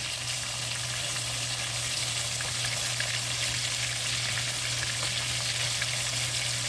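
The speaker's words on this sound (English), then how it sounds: "We just want it seared on both sides." Lamb pieces sear in a hot pan, giving a loud, steady, unbroken sizzle with a constant low hum beneath it.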